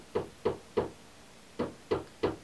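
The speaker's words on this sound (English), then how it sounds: "My mum's just decided to like knock some nails into the wall" Nails are hammered into a wall at home, six sharp knocks in two groups of three, muffled as if from another room.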